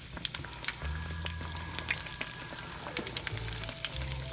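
Stretched donut dough fries in hot oil for homemade Boston cream donuts, giving a soft, steady sizzle with faint crackles and pops that stays quiet throughout.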